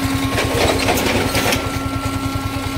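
Yamaha R15 V4 motorbike, overheating after its second service, running with an odd abnormal noise: a steady, close engine drone with a fast pulsing beat and a faint high whine, no talk over it.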